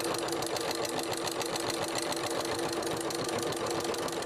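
A sewing machine stitches decorative cord, a fast, even mechanical chatter running steadily and close throughout with no talking.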